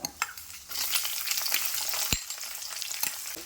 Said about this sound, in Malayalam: ഞാൻ ഉള്ളിയും മുളകും കൂടെ കൊണ്ടിടുക